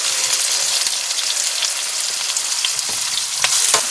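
Green chillies and salt sauté in a hot pan of oil for mango pickle, giving a loud, steady sizzle and crackle that continues throughout, with occasional stirring scrapes.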